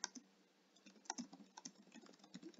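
Quick, uneven keystrokes on a computer keyboard as a text response is typed into an assignment, light clicking taps close by and fairly quiet, with no voices.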